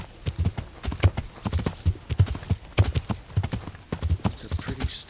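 Horse hooves clip-clopping in a steady, brisk rhythm while climbing a steep hill in the video game Kingdom Come: Deliverance, close and clear with faint talk in the background.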